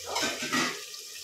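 Water pours into a cooking pot of boti curry with tamarind, a brief close rushing splash that fades off after about a second, with no talking.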